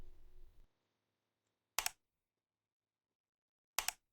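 Two isolated sharp clicks from a computer keyboard or mouse, each brief and close, separated by about two seconds of near silence after a short murmur of background sound at the start.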